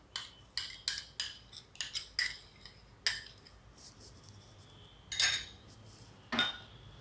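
Eggless rum cake batter being mixed in a bowl, with a utensil clinking and scraping against the sides in quick irregular strokes, close and fairly faint, no voices.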